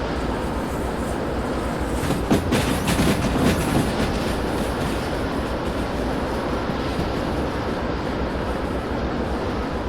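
A train rolling on rails in the Derail Valley railway game, a steady loud rumble with faint rhythmic clatter, unbroken and without talking.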